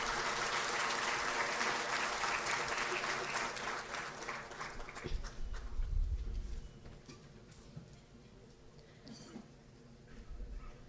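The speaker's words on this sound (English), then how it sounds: "Can we have a big round of applause" Audience at an international workshop on 6G connectivity gives a big round of applause, dense clapping for about five seconds that then thins out to scattered claps and a quieter room.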